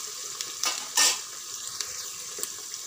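Onions frying on a medium flame in a pan for a mutton curry, with a soft steady sizzle and occasional scraping stirs of a spoon against the pan, one louder clatter near the middle.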